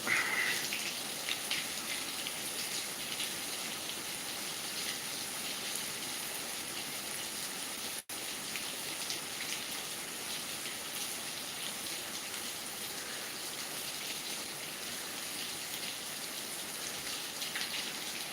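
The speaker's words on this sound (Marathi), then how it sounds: "हे पाऊस म्हणजे आता दहा मिनटं झाला पाऊस चालला आता थोडं तीव्रता कमी झालेली आहे" Steady rain pours continuously, a dense even hiss of drops with no voices, holding at the same moderate level throughout.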